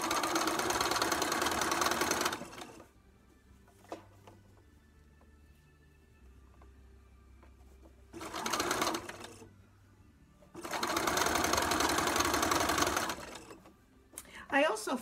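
A home sewing machine stitching quilt pieces for a four-patch block, running in loud sustained bursts with quiet pauses between, where a voice talks softly.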